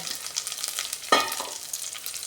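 Green chillies and curry leaves sizzling in hot tempering oil, a steady soft crackling fry with one sharper burst of spitting partway through.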